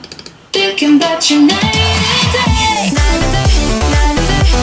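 An electronic music track with layered synths, a repeating arpeggio and punchy bass stabs, loud and steady after a brief quieter intro.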